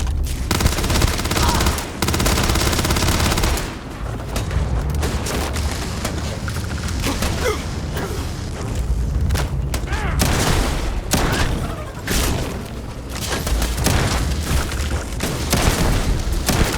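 Dense gunfire in a Starfield firefight, with rapid automatic bursts and heavy booming shots layered continuously, loud and close, while combat shouts come through now and then.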